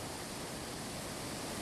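Iguazu Falls, a vast chain of more than 270 waterfalls and cascades in Iguazu National Park, roars in a steady, dense rush of falling water that stays loud and even throughout, with no voices.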